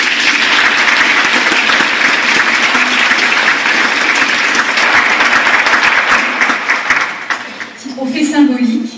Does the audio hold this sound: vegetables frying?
no